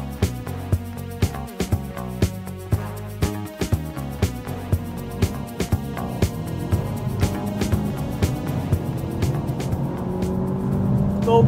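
A 2017 Audi TT engine builds and revs during a test drive, its rising drone growing steadily louder toward the end beneath regular sharp ticking clicks, with no voices present.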